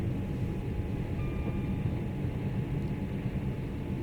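Class 323 electric commuter train running in the Train Sim World 5 game, a steady low rumble and rolling drone with faint whine tones, continuous and even throughout, no talking.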